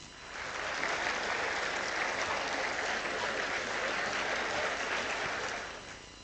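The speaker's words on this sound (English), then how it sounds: "I request everyone to please give them a big round of applause" Steady applause from an audience at a maritime career summit, swelling in, holding evenly for several seconds and tapering off at the end, with no voices over it.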